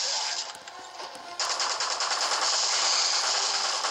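Rapid automatic gunfire from the video game Resident Evil Revelations, a dense continuous burst that grows louder and steadier after a brief dip, with no talk over it.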